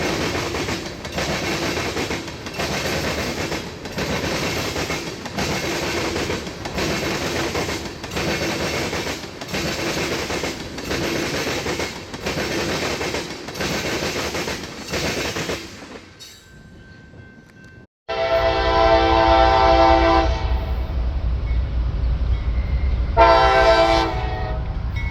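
A freight train on a special toxic waste movement rolls past at Fostoria, led by the former Union Pacific Boy Scout tribute locomotive. A steady close rumble with rhythmic wheel clatter fades to a brief lull, then loud sustained horn blasts follow.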